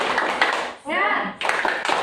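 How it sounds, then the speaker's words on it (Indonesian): A group of mothers at a community session on preventing child abuse performs a rhythmic spirit clap chant, with voices calling out and chanting around a short stretch of sustained, tonal group chanting, followed by more clapping and talk. "bareng-bareng yuk tepuk semangat"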